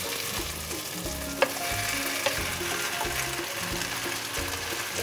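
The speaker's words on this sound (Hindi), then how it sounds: "अब हम डालेंगे इसमें चिकन।" One kilogram of chicken sizzles and fries steadily in a hot pan, a close, continuous crackling hiss broken by the scrape and stir of a utensil and a couple of light knocks.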